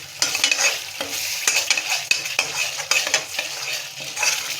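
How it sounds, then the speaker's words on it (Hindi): Paneer curry with green gravy, just salted, is stirred in a pan: a spoon scrapes in repeated short strokes over a soft sizzle, close and clear, with no talking. "और इसको भी अच्छी तरीके से मिक्स कर लेंगे।"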